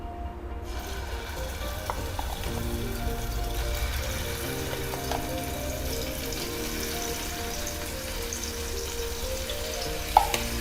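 Spice masala frying in hot oil for Kolhapuri tambda mutton rassa, a steady close sizzle and crackle throughout with a sharp clink near the end, no talking.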